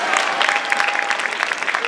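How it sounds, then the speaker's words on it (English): Brief crowd applause breaks out at a public gathering with the New York State Attorney General in Hempstead Village, a close, busy patter of clapping with voices mixed in. "Give him a round of applause"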